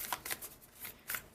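Oracle cards from the Wild Offering deck are shuffled in quick, close riffling bursts that come in several short pulses and stand alone without speech.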